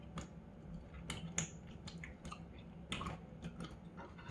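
Someone chews a big bite of a bacon-topped coney dog with onions on soft bread, with close, wet, squishy mouth sounds and irregular crunches. No one speaks.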